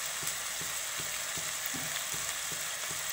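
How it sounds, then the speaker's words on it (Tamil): Chopped tomatoes with salt sautéing in a pan, a steady soft sizzle broken by regular light stirring scrapes about every half second, close and without voices. "போட்டு இது நல்ல தக்காளி கரையிற வரையும் நல்லா இதை வணக்கிடலாம்."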